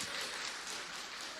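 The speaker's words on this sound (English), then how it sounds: "Give them a round of applause" A church congregation gives steady applause for Macy and Ty during a Sunday service, a faint, dense wash of clapping with no talking over it.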